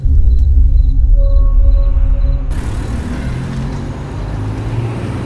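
A car carries four people through the night on the road home to Bandung: a steady low road rumble and engine drone, preceded by a few seconds of sustained tonal hum, heard in a radio drama.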